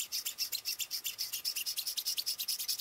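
Hacksaw blade cutting copper chain links held in a plywood jig, a steady rhythmic rasp of about two strokes per second, close and fairly quiet, running on alone without voices.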